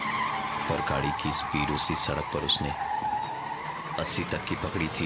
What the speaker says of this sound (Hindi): गाड़ी अचानक डिसबैलेंस हुई और सडन ब्रेक से रुक गई